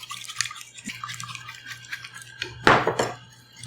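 Quick light clinks of a utensil against a bowl while beating an egg, small scattered taps ending in a brief louder scrape, close by and without speech.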